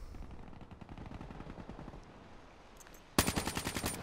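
Gunfire in the Black Ops 3 video game: steady rapid bursts of automatic fire run throughout, then a sharp, louder close burst bursts in near the end with rattling repeated shots.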